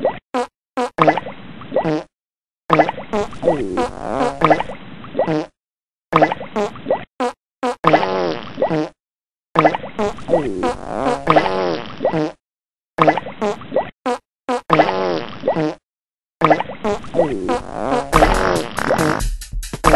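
Repeated wet, buzzing fart sounds from someone in a bathtub, near and loud, coming in a steady series of bursts separated by short silences.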